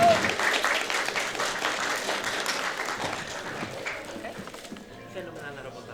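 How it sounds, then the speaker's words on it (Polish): Sustained applause from a crowd at a cosplay convention, steady clapping that slowly fades, with voices mixed in. "Brawo! Ogromne brawa!"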